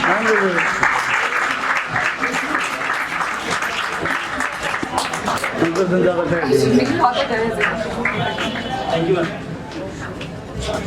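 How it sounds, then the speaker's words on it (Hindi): Applause for Keshav Kumar, top programming student, at a school academy function: a roomful of people clap steadily and fairly loudly, with murmured chatter underneath. "केशव कुमार के लिए तालियां करिए।"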